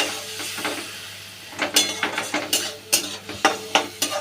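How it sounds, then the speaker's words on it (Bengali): Spice paste with salt and a little jaggery is stirred and fried in a pan for a vegetarian papad curry: soft sizzling under repeated scraping of a spoon against the metal, the strokes growing louder and more regular halfway through, with no talk. "দিয়ে এবার মশলাটা কষতে থাকবো"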